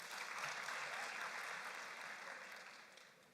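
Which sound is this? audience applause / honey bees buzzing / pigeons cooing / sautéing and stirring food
audience applause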